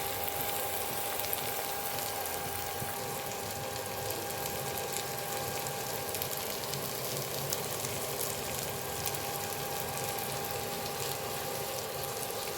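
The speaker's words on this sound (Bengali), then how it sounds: "তো আমার টমেটোটা ভাজা ভাজা হয়ে গেছে" Chopped tomatoes frying in oil in a pan while cooking chicken kosha, a steady soft sizzle that runs unbroken for the whole stretch with no voices over it.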